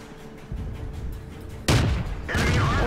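Two heavy tank cannon blasts in World of Tanks, one at about the midpoint and a second near the end, each a loud broadband boom over a low rumbling background.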